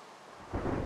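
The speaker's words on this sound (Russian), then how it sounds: "дождь мне надоел" Soft rain hiss gives way to a sudden low rumble of thunder rolling in over the downpour, brief and building, in Minecraft.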